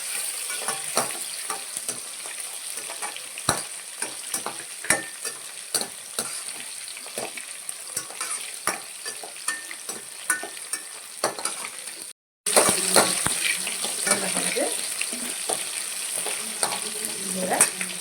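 Onions sauté with a little salt in a pan for Tamil vatha kuzhambu, giving a steady, close sizzle with frequent stirring scrapes throughout and a brief gap partway through.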